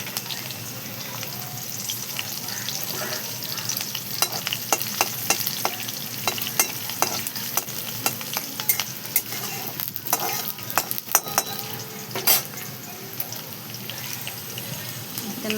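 Cumin seeds, crushed garlic and green chillies fry in hot oil in a pan, producing a continuous crackling sizzle with many quick pops and spits, close up, with faint talk in the background.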